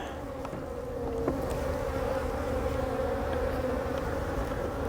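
Honey bees buzz around an open hive during a dry-weather inspection with a hive lifter, a steady, dense drone of many insects close by with no voices.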